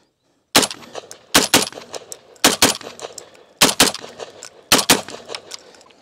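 Rapid bursts of rifle gunfire, loud and close, in quick pairs and triplets with short pauses between, fired with a Nextorch WL50IR weapon light mounted.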